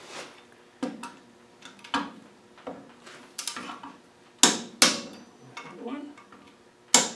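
Sharp metallic clicks and knocks, spaced irregularly and close by, as hub nuts are tightened in a diagonal pattern on a white Land Rover 90 300Tdi, with some louder snapping clicks near the end.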